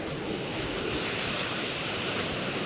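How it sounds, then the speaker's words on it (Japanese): Strong wind roars across a rocky seashore on the Japanese coast, a dense, constant rush of broadband noise with surf mixed in, close and loud with no voices. "結構風がめちゃくちゃ強くなっちゃって"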